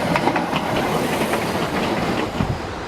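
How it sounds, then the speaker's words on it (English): A train rolling along railway tracks in Peru's Sacred Valley on the route to Machu Picchu, a steady close rumble with rhythmic clacking, no talk over it. "Maybe we might be able to jump on the back of the train because they do seem to go a little bit slowly"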